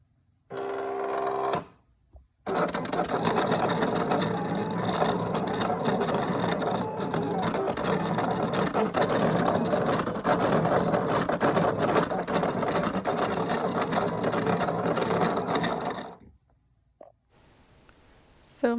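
Vinyl cutting machine cutting lip gloss labels, a loud, steady mechanical whirring and ratcheting that runs for about fifteen seconds, with brief clicks before and after and no talking.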